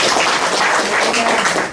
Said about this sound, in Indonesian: Beri tepuk tangan lagi untuk Tuhan Yesus.